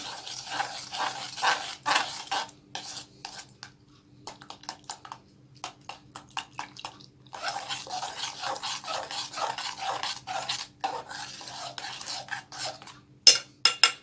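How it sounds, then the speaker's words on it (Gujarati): Cornflour and powdered sugar being stirred into milk for homemade mango ice cream, a steady scraping whisk against a bowl in quick bursts with pauses, close and fairly loud, no talking. "અને કોર્નફ્લોર એડ કરી દઈશું મિલ્કમાં. બરાબર મિક્સ કરશું."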